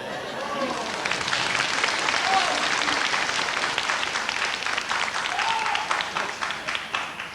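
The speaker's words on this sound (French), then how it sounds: "que les gens ils applaudissent" An audience claps steadily for several seconds, a dense spread of many hands with faint voices underneath, tapering slightly toward the end.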